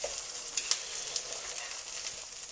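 Trout fillet frying skin-down in a pan, a steady close hiss of sizzling fat with a few sharp pops and crackles standing out, no voices.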